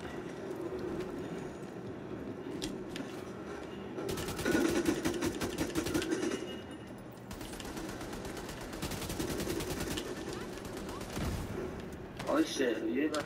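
AK rifle gunfire in the video game Division 2, bursts of rapid automatic shots across the middle of the clip, with a player talking over the action.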